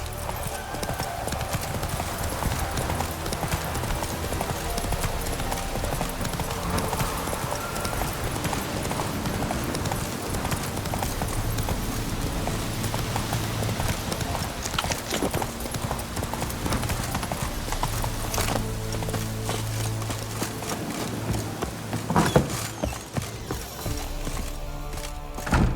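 Roach, Geralt's horse in The Witcher 3, gallops with steady rhythmic hoofbeats over a continuous game ambience and music bed, the clip-clop persisting close and even throughout.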